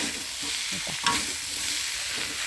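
Vegetables stir-fried with egg and nham in hot oil, a loud close sizzle with scraping spatula strokes and a sharp clatter in the middle, no talk.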